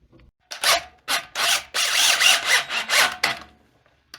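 Bolt holes on a John Deere 400 industrial tractor being cleaned out with a tool, a series of close, loud scraping and rasping bursts in an irregular rhythm, with no talk.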